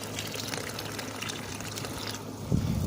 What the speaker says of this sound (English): So we are going to add just a little bit of water.